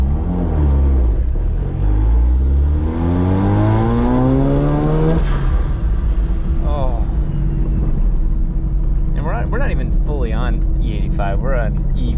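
A rotary-engine Corvette running ethanol flex fuel revs up in first gear, its engine pitch climbing in a rising sweep before dropping to a steady rumble, with people talking over it.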